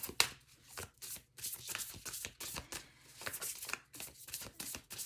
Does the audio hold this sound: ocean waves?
no